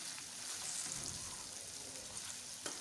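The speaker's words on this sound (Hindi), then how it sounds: "तो वो अब हमने उसको फ्राई होने के लिए कढ़ाई में डाल दिया।" Fries coated in flour and rice flour frying in oil in a wok, giving a steady, close, bubbling sizzle with a faint crackle throughout.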